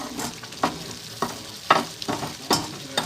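Pav bhaji cooking in a pan, simmering while a spoon stirs it in repeated scraping strokes, with a soft steady sizzle underneath and occasional sharper clinks against the pan, close and fairly quiet.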